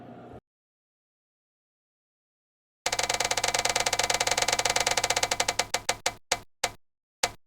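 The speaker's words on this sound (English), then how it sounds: "Let's spin the wheel." A page spinner wheel is spun and ticks in a fast, loud rattle of clicks that gradually slows to a few widely spaced clicks before stopping, with silence just before it starts.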